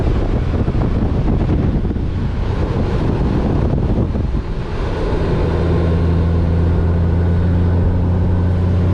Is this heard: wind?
yes